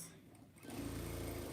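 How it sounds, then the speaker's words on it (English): Domestic sewing machine stitching across a log cabin quilt block, starting after a brief quiet lead-in and then running as a steady, close, continuous mechanical whir. "so I'm just going to sew across"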